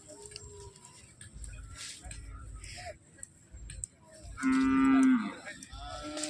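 At a village livestock market, cattle low once in a loud, close, drawn-out moo, amid background chatter and scattered crowd noise.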